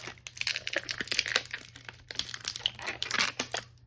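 Plastic packaging crinkles and crackles up close as accessories for a 2023 Super7 ReAction+ G.I. Joe Jinx figure are popped out, a few seconds of busy rustling and snapping.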